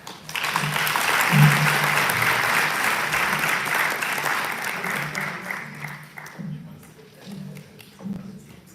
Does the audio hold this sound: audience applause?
yes